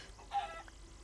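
A chicken in the Minecraft video game gives a single short, faint cluck, with a quieter chirp just after it over a low background hum.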